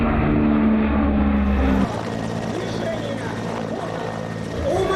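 Aircraft fly at an air show in Kazan, including jet planes and military aviation, giving a loud continuous roaring engine rush that eases slightly partway through.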